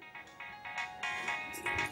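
A mobile phone rings with a repeating electronic ringtone, a rhythmic series of short bright bursts rising slightly in level, heard clearly and fairly close indoors.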